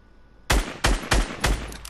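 Fortnite Battle Royale gunfire rings out as four loud, close shots in quick succession, each a sharp crack with a booming low tail.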